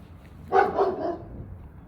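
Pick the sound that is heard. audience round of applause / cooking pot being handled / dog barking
dog barking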